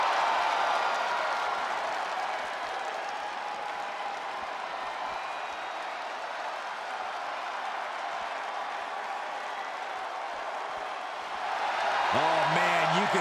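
Crowd noise from an arena wrestling match in the WWE 2K22 video game, Shayna Baszler against Brock Lesnar: a steady, loud wash of cheering and applause filling the whole stretch, swelling again near the end as a commentator talks over it.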